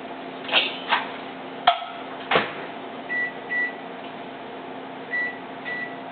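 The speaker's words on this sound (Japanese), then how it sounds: "ラップをしてレンジで2分から3分、2分で一度やってみてください。" A microwave oven running on a cooked croquette filling under plastic wrap: a low steady hum with a couple of door or latch knocks, then faint repeated beeps near the end.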